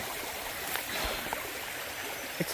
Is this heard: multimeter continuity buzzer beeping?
no